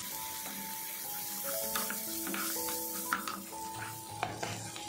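Green chillies with crushed ginger and garlic are stirred in a pan for a Kerala fried chicken curry, a soft sizzle under scraping spoon strokes and clinks, close and fairly quiet.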